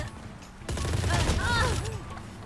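Rapid bursts of gunfire from a Fortnite-like shooter video game crackle steadily for about two seconds, mixed with other in-game sounds.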